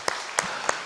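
A church congregation claps briefly, with a few distinct slaps inside an even patter of applause, moderately loud and without talk.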